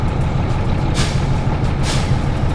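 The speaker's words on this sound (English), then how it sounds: "we're going to use the service brake to pump the system down just below 100 psi to get the governor to kick in" Truck service brake pumped repeatedly to bleed air pressure down to governor cut-in, two sharp bursts of air brake release about a second apart over a loud, steady idling diesel engine.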